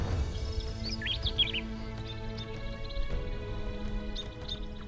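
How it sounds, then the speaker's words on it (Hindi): Cartoon forest birdsong: a few high chirps and short tweets over a steady, low background drone, moderately faint and continuous. "चिड़ियां अपनी आवाजों में गुनगुना रही थीं"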